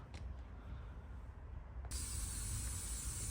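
Steady hissing spray at close range as a car panel corner is spray painted, growing louder and brighter partway through as the nozzle opens fully, with no talk.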